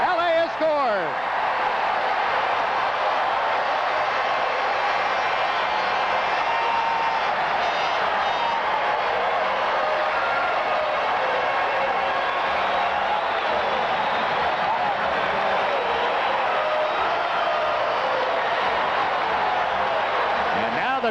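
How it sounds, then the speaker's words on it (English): Hockey arena crowd roaring after a goal in a 1989 NHL playoff game, Chicago vs. St. Louis, a loud sustained wash of cheering that fills the whole clip with commentary talk over it. "The crowd is alive again as this thing sneaks by Vernon."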